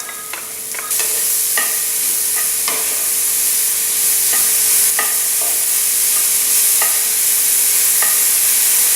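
Mushrooms hit a hot pan with garlic and start frying in a steady, loud sizzle, while a spoon scrapes and taps the pan in repeated stirring strokes.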